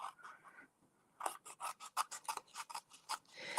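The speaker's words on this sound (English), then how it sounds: "We use my Stampin' Snips. And you're just going to trim along the edge here." Stampin' Snips scissors trim along the edge of craft paper with a rapid run of crisp, close snips following a short quiet lead-in, alone without talk.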